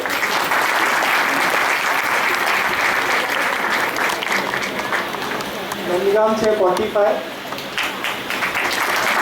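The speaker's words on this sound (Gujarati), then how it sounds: "પહેલા રાઉન્ડ પછી હું સ્કોર નહીં કહું જ્યાં સુધી તમે લોકો તાળીઓને વગાડો" Audience applause at a Shree Mahaprabhuji Prakatya Utsav quiz event in Pune, steady crowd clapping throughout under someone speaking.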